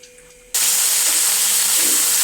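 Chopped onions for methikura talimpu drop into hot oil, and after a quiet moment a sudden loud sizzle bursts up and holds steady and close.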